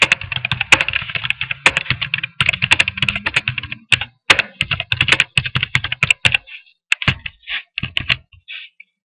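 Rapid, close keystrokes on a computer keyboard while filling in details for an online shop, dense bursts of clicking that thin into slower, separated taps toward the end, with no voices.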